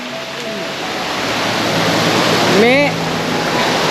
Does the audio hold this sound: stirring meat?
no